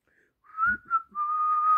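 A short whistled tune from a Finnish street boys' song carries a clear, bright melody alone, rising then settling into one long held note.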